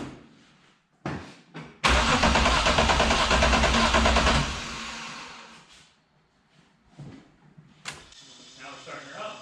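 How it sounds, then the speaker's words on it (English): Turbocharged BMW E36 six-cylinder engine cold start with one damaged cylinder: a few brief cranking bursts, then a loud catch and roar that settles into a quieter idle, with someone talking near the end. "we'll do a cold start. I'll show you how great this thing starts and idles"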